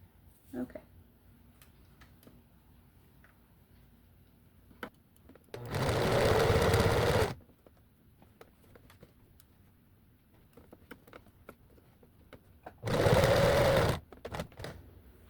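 A sewing machine stitches a sweatshirt in two loud, close bursts of rapid mechanical whirring, each lasting about one to two seconds, separated by quiet handling noises and a faint pigeon cooing in the background.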